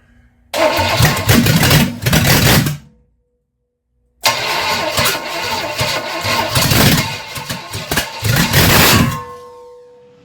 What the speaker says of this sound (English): we got this engine up and running, and actually runs pretty good